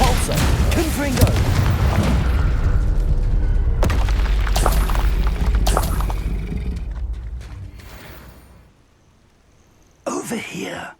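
Spell explosions in Hogwarts Legacy, heavy booming blasts and crashing impacts layered with shouted incantations, fading into a near-silent tail before a brief, sharp burst returns at the close.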